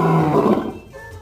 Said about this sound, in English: the lion's roar is an awesome sound and is used to communicate territorial boundaries to other nearby prides